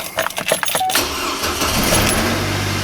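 A Chevy Colorado pickup with a five-cylinder engine starts after keys jangle and a brief crank, then catches and settles into a steady, loud idle at close range.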